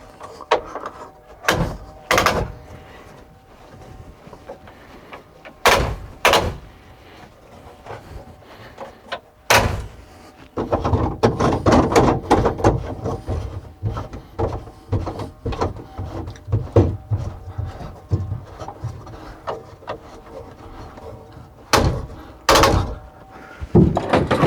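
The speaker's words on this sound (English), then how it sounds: "I open the door, step here" A car door on a vehicle fitted with a Thule roof box opens and shuts several times, sharp close thumps scattered through, with a stretch of handling and rustling in between.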